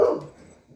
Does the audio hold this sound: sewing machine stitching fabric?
no